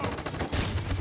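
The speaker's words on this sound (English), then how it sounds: "so we're just going to do covering fire" Covering gunfire in the video game Detroit: Become Human, a dense continuous burst of rapid shots and rumbling fire filling the whole moment, loud and busy with no voices.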